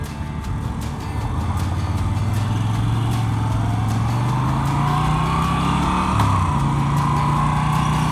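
A Moto Guzzi V7 motorcycle ridden on the road, its engine droning steadily close up under a constant rush of wind, with the engine pitch rising and shifting as it accelerates.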